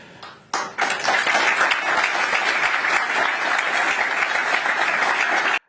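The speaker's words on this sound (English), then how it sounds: "the fact that a European audience applauded him" Sustained audience applause following a speech, loud and steady after a brief quieter start, with no voices over it.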